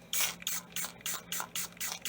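Repeated bursts of a Lysol spray bottle misting foaming dish soap into a sink being unclogged, about seven short hissing sprays in a steady rhythm, close and fairly loud with no talking.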